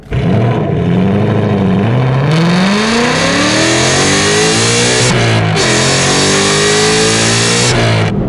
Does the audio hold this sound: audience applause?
no